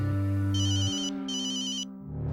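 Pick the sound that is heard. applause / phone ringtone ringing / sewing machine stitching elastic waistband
phone ringtone ringing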